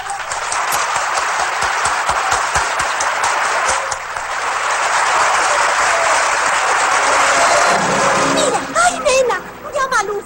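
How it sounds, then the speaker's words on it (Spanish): Loud audience applause for a young singer about to perform a song on a 1961 stage, a dense steady wash of clapping holding for about eight seconds before thinning out as a voice begins to speak. "Un aplauso para él."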